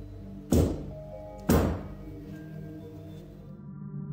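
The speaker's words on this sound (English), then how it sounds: "a mysterious thudding sound was heard" Two heavy, dull thuds land about a second apart inside a quiet room, each fading quickly into a low background hum.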